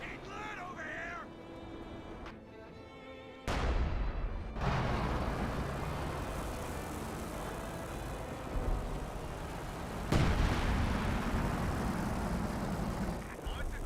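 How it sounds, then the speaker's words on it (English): An artillery barrage in Company of Heroes 2 lands two sudden heavy booms several seconds apart over a constant rumble of battle noise. "Left 18 looks like maybe barraging around."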